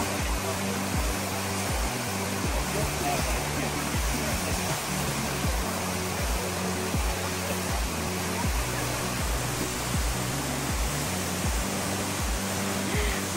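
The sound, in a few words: Kaaterskill Falls waterfall, New York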